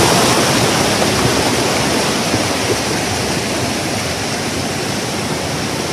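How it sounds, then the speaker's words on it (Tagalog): A rushing stream carries strong currents down from upstream, making a loud, dense, unbroken roar of water that stays close and steady throughout. "Yun, mga agos yun na galing dyan sa taas"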